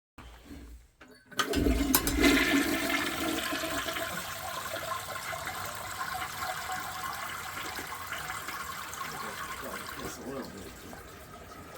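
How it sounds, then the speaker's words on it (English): A toilet flushes in an RV, its rushing water running steadily for several seconds at moderate level after a brief quiet start, with a faint voice at times. "It's the water running."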